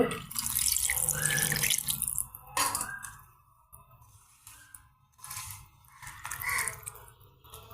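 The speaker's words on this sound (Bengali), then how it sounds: "সামান্য পানি দিয়ে দেব" Water pours and splashes into a pan of tomato and small puti fish curry, a bright gushing rush at first, then fading into softer trickles and drips with intermittent bursts.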